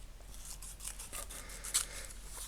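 Scissors snip paper for an art collage in a quiet room, a run of short close, soft crisp cuts with light rubbing between them.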